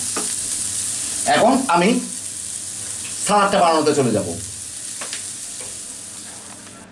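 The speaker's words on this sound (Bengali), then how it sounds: "হয়ে গেল আমার এক মিনিট ভাজা, খুব সুন্দর একটা ফ্লেভার বের হচ্ছে" Vegetables for a chicken cashew nut salad sizzle and hiss as they fry in a hot pan, with loud bursts of stirring scrapes while a person talks.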